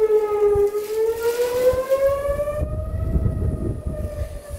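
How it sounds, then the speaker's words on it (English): Outdoor civil defense warning sirens wail during a severe straight-line wind storm, a loud sustained rising and falling tone carrying across the area while wind rumbles beneath. "I'm standing outside and you can hear the sirens."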